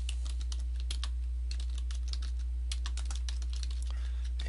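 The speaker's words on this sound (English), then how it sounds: "So let's type in a title" Quick keystrokes on a computer keyboard as a WordPress post title is typed, irregular clusters of clicks running the whole stretch, close and clear with no talk.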